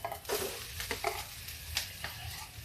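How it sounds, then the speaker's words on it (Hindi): A potato-stuffed paratha shallow fries in a pan, a quiet sizzle broken by several short scraping and stirring bursts, with no voices. "बस सैलो फ्राई करेंगे इसको पकाने के लिए।"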